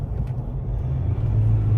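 Ford Ranger XLT with a 10-speed automatic accelerating from inside the cab, a low steady engine rumble rising slightly in pitch as the transmission works through gears, close and continuous without talk.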